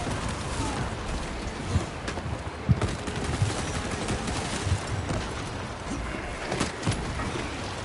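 Rapid gunfire from the Space Marine 2 video game, a dense continuous rattle of automatic weapons with occasional sharper bursts, loud and sustained across the whole stretch of chaotic combat noise.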